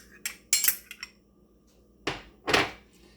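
A utensil clinks and scrapes against a bowl while gram flour batter with garlic is stirred, a few quick sharp clatters followed by two louder knocks, close and alone with no talk.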